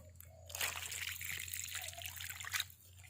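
Water poured onto the soil around the base of a durian tree being treated for fungus, a soft continuous trickle and splash that swells briefly near the end, quiet and close.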